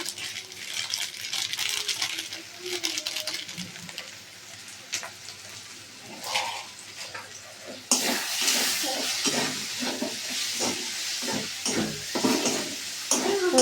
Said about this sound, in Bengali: ভালো করে নাড়িয়ে নেব